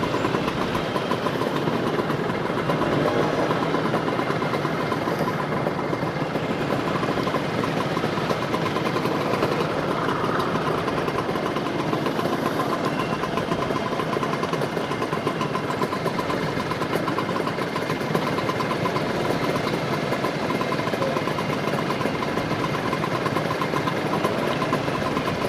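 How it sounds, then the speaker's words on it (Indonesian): A Vespa scooter engine, an Extreme-style custom build, idles steadily at close range, with a continuous rumbling drone and no talk over it. "Vespa Extreme anjir."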